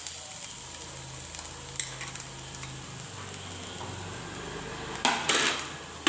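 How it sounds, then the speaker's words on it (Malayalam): Grated coconut fries in coconut oil in a pan, a soft continuous sizzle with a low hum beneath, light scraping and ticking of stirring, and a louder crackling burst near the end. "ഇനി ഇത് ഒരു ഗോൾഡൻ കളർ ആകുന്നിടം വരെ ഒന്ന് വറുത്തെടുക്കണം"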